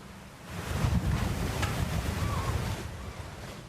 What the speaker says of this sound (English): The power of a flooding river shoving this house underneath a bridge and tearing off the roof.